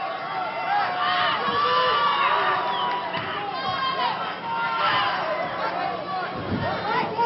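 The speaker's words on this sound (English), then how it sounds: "You hear the crowd in the background." A large crowd roars and shouts continuously in a busy arena at a fight, with overlapping voices and bursts of cheering swelling and fading.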